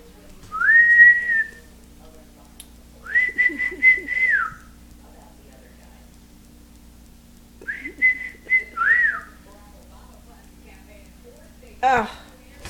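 A pet parrot whistles clear, rising-and-falling tones in three separate phrases, with a sharp squawk near the end, loud and close in a quiet room.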